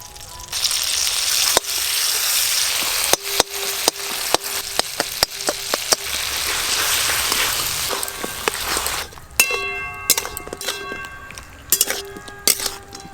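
Tomatoes are broken up and stirred with a spatula in a hot, sizzling pan. A loud, steady frying hiss runs under repeated metallic clinks and scrapes, which become sparse clanks once the sizzle dies down.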